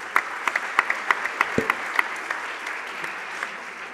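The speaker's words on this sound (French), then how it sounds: "Merci François, on peut l'applaudir également" An audience at a French tourism conference applauds a speaker named François, a small scattering of distinct hand claps that quickly thins out and fades to a few isolated claps.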